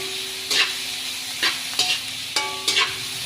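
Tomatoes cooking alone in a pan, a soft steady sizzle broken by four or five short metallic scrapes and clatters of a utensil stirring, close and unaccompanied by speech.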